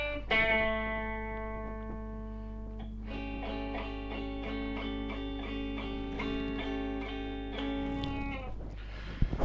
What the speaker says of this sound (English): this clip on the A blues scale for guitar, using just the chordal tones in the second position